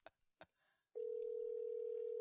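A telephone call being placed on a landline: two faint muffled taps, then a steady continuous ringback or dial tone that starts abruptly and holds evenly to the end, clear and close with no talking.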